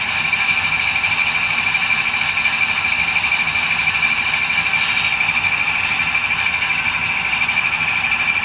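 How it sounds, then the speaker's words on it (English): N scale GE AC6000CW model locomotive sound module playing a steady high brake squeal over a low engine hum, with a brief sharper note midway, sustained and even. "Brake squeal."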